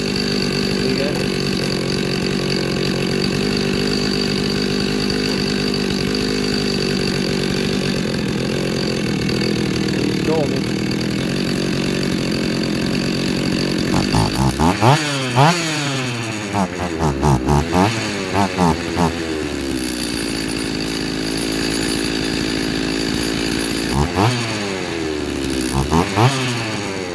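A ported STIHL MS290 chainsaw runs at its first start after porting, idling steadily and close, then revving hard in several sharp bursts before dropping back to idle.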